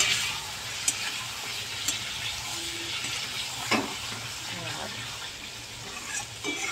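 Chicken curry meat sautés in a pan, a steady frying hiss and sizzle throughout, with occasional clicks and scrapes from stirring.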